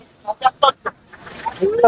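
A large rooster at a cattle market clucks in a few short, sharp bursts, followed by a rising call amid background noise, fairly close.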